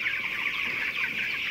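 A dense, steady chorus of 20-day-old broiler chickens clucking and peeping together in a farm shed, continuous and close with no voices.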